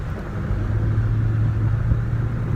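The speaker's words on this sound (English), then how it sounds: "If y'all hear some, that's the car. We racing in traffic right now." Steady low engine rumble and road noise heard from inside a car moving through evening traffic, a constant close drone without breaks or talk.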